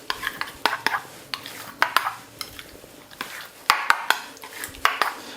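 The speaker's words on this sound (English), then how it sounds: "Give it a whisk." A whisk rattles against a bowl while burger sauce is mixed for smash burgers, sharp irregular clinks and scrapes repeating close by with no one talking.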